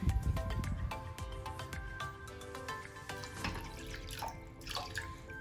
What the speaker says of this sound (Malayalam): ഒരു പാത്രം എടുത്തിട്ട് അതിൽ കുറച്ച് വെള്ളം ഒഴിച്ചു കൊടുക്കുന്നുണ്ട്